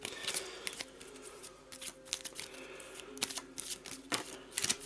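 A deck of cards for the A Touch of Evil board game is shuffled by hand in quiet, repeated bursts of riffling and card slaps over about five seconds.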